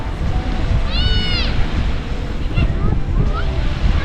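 Waves breaking on a Hawaiian beach, a loud, steady rush of surf with wind buffeting the microphone, and a few brief high-pitched tonal calls or squeaks over the roar.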